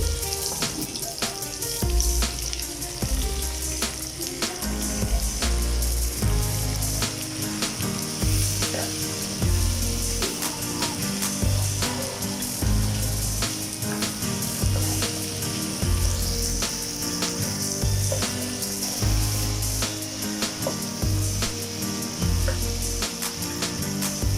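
Beef karahi sizzles steadily in a pan as chopped tomatoes are added, a continuous loud frying hiss with watery bubbling and occasional clinks, no talk.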